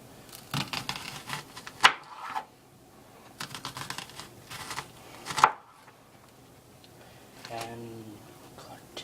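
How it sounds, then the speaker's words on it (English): An onion being chopped with a knife on a cutting board for an omelet, several scattered crisp cuts with two sharp louder knocks, heard between bits of talk. "let's chop the onion"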